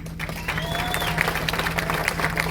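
Mourners applaud at a funeral gathering, a steady wash of clapping under a constant low electrical hum, with faint crowd voices mixed in.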